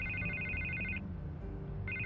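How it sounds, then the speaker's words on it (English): A telephone rings with a bright electronic trill that sounds for about a second, stops, then starts again. The ringing sits over a low rumbling background. "I can't get the phone to stop ringing."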